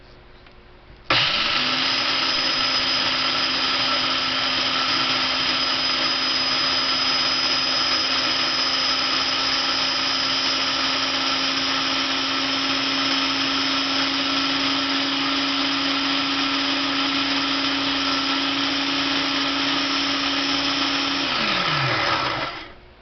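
Kitchen blender grinding peanuts into homemade peanut butter, a single long run of about twenty seconds with a steady, loud motor whine and gritty churning that starts abruptly and winds down at the end.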